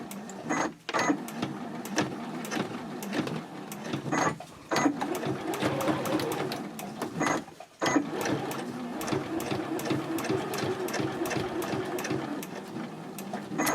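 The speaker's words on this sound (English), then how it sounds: "I'm just going to start that top stitching 1/8 of an inch away from the edge" A sewing machine runs top stitching along the edge of a fabric chatelaine purse, sewing in long steady runs of whirring motor hum. A few brief pauses for backstitching and pivoting break the stitching.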